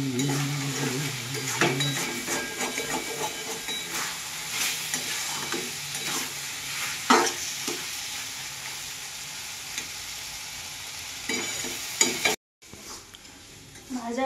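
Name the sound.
vegetables frying in a pan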